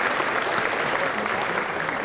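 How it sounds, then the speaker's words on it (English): Audience applause fills a large hall at an anime convention's closing ceremony, a loud, steady wash of clapping that holds throughout without pause. "So they definitely deserve a round of applause also for putting everything together for this."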